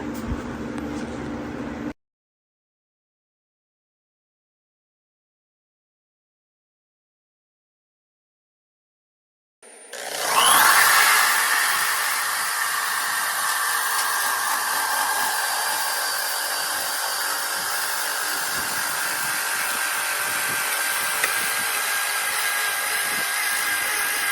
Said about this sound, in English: I about got that one sanded up.